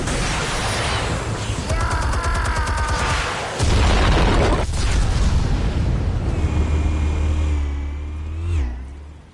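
Heavy explosive blast in Batman: The Telltale Series, a deep booming burst that swells midway, with rumbling debris, whooshing and engine-like roars close up and loud, fading near the end.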